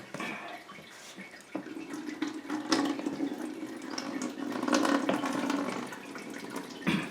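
Cold brew coffee pours steadily into a container at close range, a continuous liquid trickle that swells slightly in the middle and tapers near the end, with no talking.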